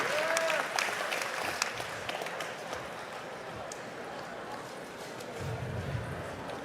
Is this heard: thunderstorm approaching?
no